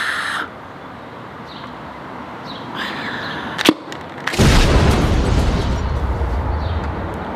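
A Nerf Fortnite Titan rocket launcher mod is fired outdoors, giving one sudden loud whooshing burst that rushes on for a few seconds after a short snap, with birds chirping faintly beforehand.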